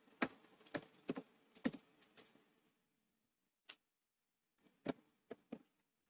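Keys on a computer keyboard are struck in quick bursts of crisp clicks, then a pause, a single tap, and a few more scattered strokes, close and quiet in a still room.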